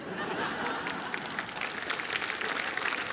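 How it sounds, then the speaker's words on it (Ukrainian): Studio audience at a comedy show applauding, a dense patter of many hands clapping with some laughter and cheering mixed in, steady and moderately loud across the whole stretch. "Бачите, як в залі аплодують і співають."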